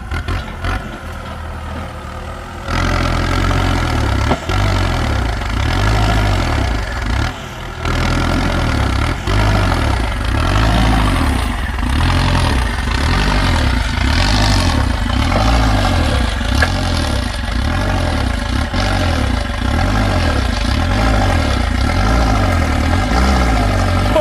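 A Kubota M6240 tractor pushing out bamboo stumps, its diesel engine loud and close with a pulsing, labouring throb and clattering under load.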